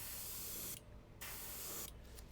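Spray paint hisses from a can onto a ridged surface in two long, steady bursts separated by a short pause, close and even.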